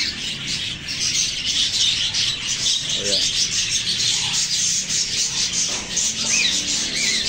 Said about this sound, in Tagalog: maingay dito sa aming rooftop. Gawa ng mga ibon ko. Ayan, ito yung alaga kong kakatiel.